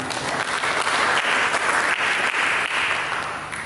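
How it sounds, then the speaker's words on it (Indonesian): Church congregation applauding during a sermon, a loud, continuous wash of many hands clapping together that fades slightly at the end. "Berikan tepuk tangan bagi kita."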